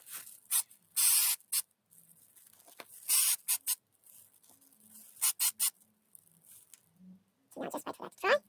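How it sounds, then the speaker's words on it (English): Brown spray paint hisses onto doll shoes in short, loud bursts separated by pauses, with some faint scratchy handling between sprays. "I sprayed the shoes brown."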